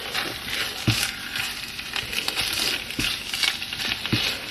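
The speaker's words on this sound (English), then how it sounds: "let this simmer on the stove for a little bit, get it kind of all the liquid dried out of it" Spinach sizzling in a little canola oil in a pot on the stove, a steady crackling fry close by with occasional soft knocks of stirring.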